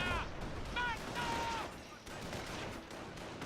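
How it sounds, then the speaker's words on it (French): Machine gun fire in the WWII strategy game Company of Heroes, heard as bursts of rattling gunfire mixed with battle noise and tonal game sounds, moderately loud, with a voice talking over it. "Allez la mitrailleuse."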